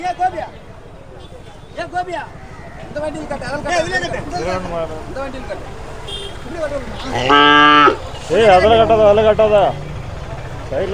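Cattle and calves moo loudly and repeatedly at the Matrapalli cattle market in Tamil Nadu, with long drawn-out calls near the mic over a bustling crowd and people talking.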